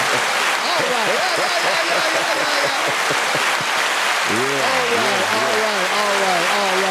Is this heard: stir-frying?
no